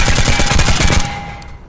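Uzi submachine gun in full-auto fire within the VR game Tactical Assault VR: a loud rapid burst of closely spaced shots lasting over a second, then fading into a short ringing decay.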